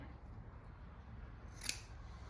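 Scissors give a single quick snip while trimming material for a homemade glass pumpkin light, a crisp click standing out briefly against quiet room noise with no voices.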